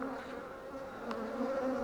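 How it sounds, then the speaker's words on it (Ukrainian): Dense, steady buzzing of many honeybees close by, covering a hive frame at an apiary, a continuous droning hum that holds evenly throughout with no voices. "Бачите, досить багато бджоли, обсідають повністю всю рамку"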